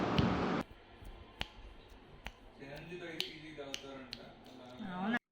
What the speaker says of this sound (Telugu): నేను చిటికలు వేస్తుంటే అలా చేయి తిప్పుతుంటే చెయ్యి రౌండ్గా కూడా చూసాడనమాట